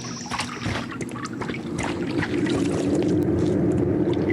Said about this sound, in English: Why does it sound like there's someone shifting through the water?